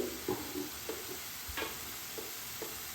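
Tamarind pulp simmers gently in oil for a pickle, a quiet, even sizzle with several faint stirring taps spaced through it.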